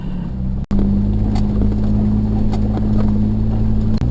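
A Jeep engine drones steadily while driving up an off-road route in West Texas, with a constant low hum and occasional bumps and rattles, close and continuous.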